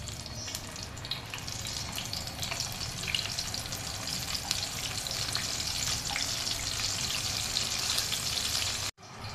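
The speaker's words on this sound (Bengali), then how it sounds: "তারপর বাকি পটলগুলোকে ভেজে নিচ্ছি।" Pointed gourd (potol) pieces fry in hot oil in a pan with a loud, continuous sizzle and occasional crackles. The sound runs steadily for about nine seconds, with no voices, before cutting off.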